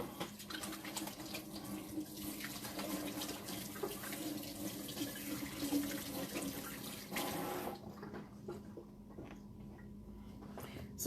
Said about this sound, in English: Gotta wash my hands. I have raw meat on my hands.